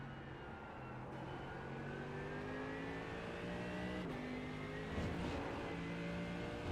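A Mercedes AMG GT3 EVO race car in iRacing on the Daytona Road Course drones steadily, its engine pitch rising through the gears with brief shift dips, sustained and fairly even in loudness.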